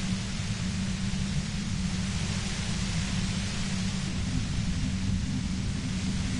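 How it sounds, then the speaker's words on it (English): A dense, unbroken wash of static hiss fills the air in the video game Disco Elysium, with a low rumbling layer beneath, steady and even with no voices. "You hear through the white noise."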